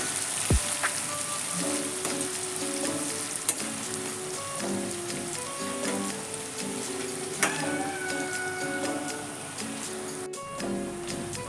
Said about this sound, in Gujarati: તો હું બધું જ લસણ અહીંયા એડ કરી દઈશ ગેસ ધીમો કરી અને બધું જ ચડવીશું આપણે